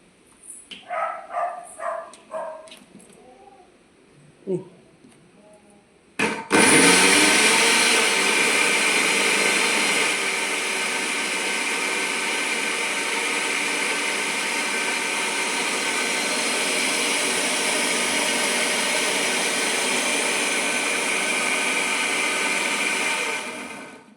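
A mixer grinder grinding kudangal chammanthi chutney starts abruptly after a few seconds of quieter sounds and brief barks, then runs as a loud, steady whir that holds nearly to the end.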